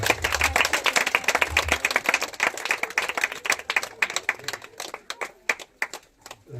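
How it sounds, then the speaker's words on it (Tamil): A church congregation claps in a sparse, uneven patter of individual hands, sharp separate claps that thin out and grow scattered toward the end, fairly quiet overall. "கைத்தட்டுங்க, உற்சாகமாக கைத்தட்டுங்க."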